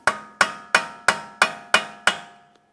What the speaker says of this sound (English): Using a hammer and punch, we're going to break the axle free from the wheel bearing hub.